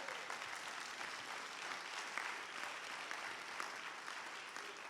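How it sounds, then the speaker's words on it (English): A church congregation at a Black History event applauds, a faint, distant, even patter of many hands clapping steadily throughout. "Can we clap for him?"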